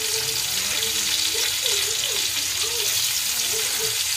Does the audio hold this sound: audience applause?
no